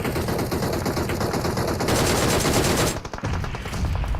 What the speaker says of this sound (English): Let's take a look at what Tixie's shooting at.